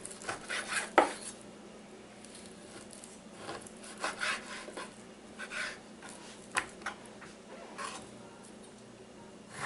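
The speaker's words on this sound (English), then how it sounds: "you want to get a pork roast, and you want to chop that up into bite-sized pieces also" A pork roast being chopped into bite-sized pieces, scattered knife knocks and scraping on a board, close but fairly soft, with irregular gaps between cuts.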